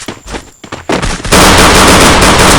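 Gunfire in the video game Free Fire: a few loud separate shots, then a dense burst of rapid automatic fire close up.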